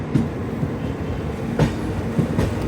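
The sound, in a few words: Indian Railways WAP5 electric locomotive, Poorabiya Express train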